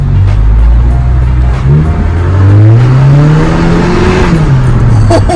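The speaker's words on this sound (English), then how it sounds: "you can definitely hear the turbo spool a little better" Exhaust of a 10th-gen Honda Civic 1.5L turbo with muffler and resonator deleted, revving loud and close, pitch climbing and falling through a strong rev with a raspy drone and faint turbo spool.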